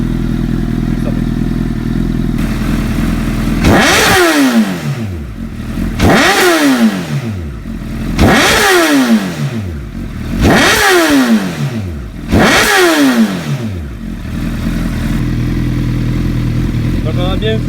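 A motorcycle engine on a power dynamometer, being tested with a hydrogen decarbonising treatment, is revved hard five times in a steady rhythm. Each burst climbs steeply and falls back to a rough idle, close and loud.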